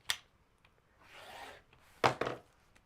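Scissors trimming fabric next to a basting stitch while sewing a quilt-as-you-go project bag, several quiet close snips and a soft drawn-out cut, separated by near silence, no talking.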